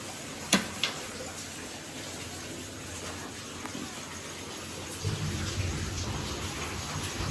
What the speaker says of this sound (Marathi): रात्रीचे 2 वाजले. पाऊस मोठाला चालू आहे बाहेर.